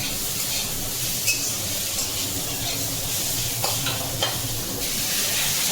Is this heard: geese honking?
no